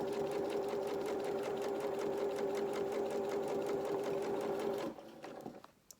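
A sewing machine runs steadily down the underarm seam of a pair of shorts or dungarees, a close, continuous whirring hum that holds for about five seconds before stopping, followed by faint handling noises.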